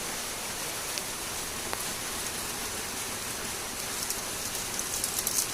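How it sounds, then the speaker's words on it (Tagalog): Steady rain pours down in a continuous hiss, with occasional brighter drops pattering on a surface. "Umuulan guys."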